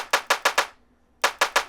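Layered snare sample from a deep house track: seven crisp, punchy hits, four in a quick even run, a short gap, then three more, loud and dry with no voices.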